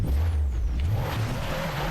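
An overheated car engine in a downhill driving video game, a steady low droning run with a thin high whine over it, continuous and fairly loud.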